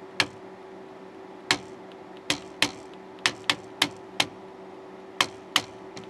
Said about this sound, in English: I'm just tapping the board with the handle of the screwdriver.